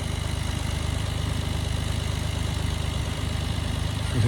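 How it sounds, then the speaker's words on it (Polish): A steady idling engine rumbles with a low, even throb throughout, close by, with no voices. "dziadek tam leci z motorem"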